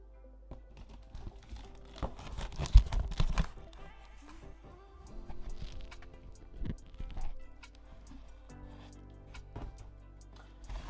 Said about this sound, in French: là on va ouvrir ce colis qu'on a récupéré aujourd'hui